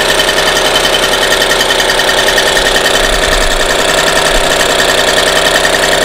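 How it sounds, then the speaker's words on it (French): A small Solex moped engine fitted with an adjustable jet, warming up at a steady, loud, rapid idle that chatters evenly throughout with no voices over it. "Donc là, vous voyez, on fait chauffer le moteur."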